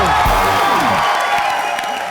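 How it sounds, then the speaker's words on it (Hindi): Studio audience applause and cheering on a live comedy show, a short burst of clapping and whoops under a loud voice speaking over it. "जोरदार तालियां हो जाए"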